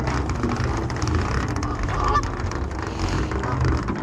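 Geese honk repeatedly and loudly by a mesh-lined bank, a busy chorus of overlapping calls filling the whole stretch up close.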